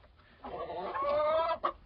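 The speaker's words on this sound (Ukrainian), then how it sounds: "От кури щось не поділять." Chickens squawk and cluck in a brief agitated exchange, one drawn-out squawk followed by a sharp cry, nearby.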